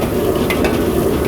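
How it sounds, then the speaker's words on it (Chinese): Shrimp are stir-fried over low heat in a wok of hot oil, with a loud, continuous close sizzle and a couple of quick scraping tosses. "虾呢，先给它翻炒一下"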